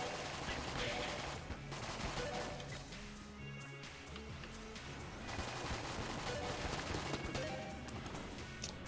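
M1 rifle shots in the gun-themed dungeon crawler Enter the Gungeon, a faint steady stream of small gunfire pops under game music and background noise.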